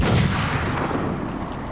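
Gunfire in the WarZ video game sounds as a loud booming report that decays into a rumbling tail.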